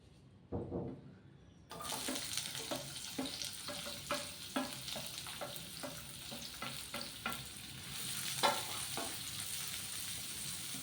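Chopped onion sautés in coconut oil in a pan for a Kerala-style puli inji, a steady close sizzle broken by repeated scraping strokes of a stirring spoon, with no voices.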